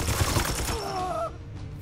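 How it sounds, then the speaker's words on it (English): Gunfire in the Chaos Gate Daemonhunters video game: a short, dense crackling volley opens the moment, then fades under ringing synthetic tones and game ambience. "Opening fire!"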